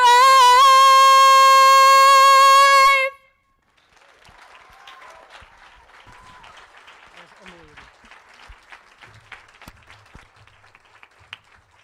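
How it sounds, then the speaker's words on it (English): An audience applauds at a high school graduation ceremony in 2020. A sustained sung note ends abruptly, then a moderate, steady wash of clapping builds from a crowd across the room. "Let's give that one more round of applause."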